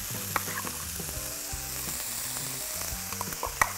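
Onion sizzles steadily in a hot pan with green apple and skinless bell pepper for a chicken curry in plantain baskets, a loud continuous hiss with faint tonal notes underneath and a few small pops.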